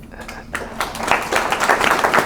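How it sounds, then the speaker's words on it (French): A small group claps, the applause swelling from scattered hand claps into steady rapid clapping, fairly close. "les applaudissements, ça, alors là, moi, je ne les accepte pas du tout"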